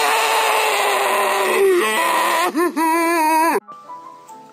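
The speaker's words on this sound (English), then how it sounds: "Your zombie may sound like this." A zombie vocalization: a groaning, wavering moan with bleat-like pitch swoops and sliding cries, loud and close, ending abruptly into a fainter tail.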